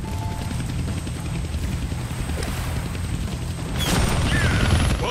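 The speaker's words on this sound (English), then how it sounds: "Damn, they found the helicopter's on switch." Helicopter in the Deadpool video game, a steady low rotor thrum that grows slightly louder near the end, accompanied by a brief high mechanical whoosh.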